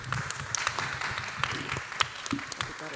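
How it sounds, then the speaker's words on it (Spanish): Audience applause at a panel on critical design of technological fashion, a steady wash of many hands clapping with scattered sharper claps throughout, moderately distant and unbroken for a few seconds. "Un aplauso, por favor"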